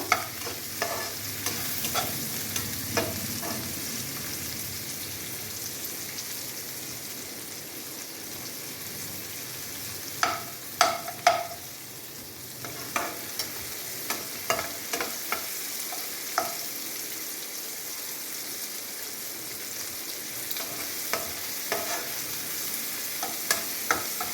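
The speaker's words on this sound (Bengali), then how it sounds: "কাঁচা লঙ্কাটা এবার দিয়ে দেবার মধ্যে ভালো করে নাড়াচাড়া করবো" Green chillies and turmeric fry in a pan while being stirred, a steady sizzle broken by scraping strokes and clinks of a spoon against the metal, close and moderately loud, with no talking.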